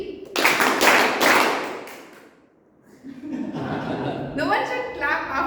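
Audience clapping in unison during a group game at a Toastmasters meeting, a burst of claps early that fades to a pause, then a second round of clapping with voices and laughter mixed in.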